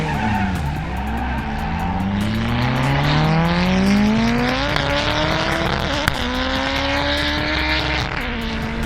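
A 1994 Acura Integra half-mile race car roars loudly at close range, its engine pitch climbing through a sustained pull while tires squeal and skid.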